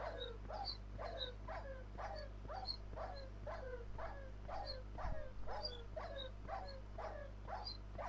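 A hurt dog whimpering in the Minecraft video game, a faint, evenly repeated series of short whines, about two per second, with no talking.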